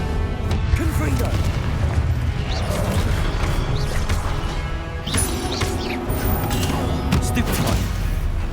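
A Confringo blasting curse goes off amid a Hogwarts Legacy spell duel, booming blasts and crashing impacts layered over constant battle noise, loud and dense with a swell of blasts midway through.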